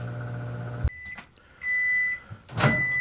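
Microwave oven heating food on a microwave tray, a steady hum that cuts off with a click, followed by a high electronic beep tone and a brief clatter near the end.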